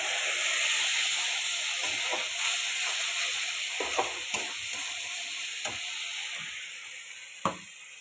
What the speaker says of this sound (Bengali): তো আমি সয়াবিনের জন্য মশলাটাকে কষিয়ে নিচ্ছি ভালো করে।